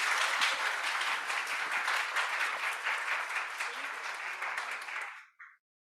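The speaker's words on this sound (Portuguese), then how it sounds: "Uma salva de palmas" Sustained applause from an audience at a women's business breakfast event, dense and steady for about five seconds before cutting off abruptly, with a brief final clap.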